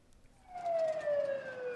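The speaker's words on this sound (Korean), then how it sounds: "사이렌을 울리며 도로 위를 달리는 소방차." A fire truck siren wails as the truck drives down a city road during a drill in which cars pull over to let it pass. The siren rises into a loud, sustained tone, close by.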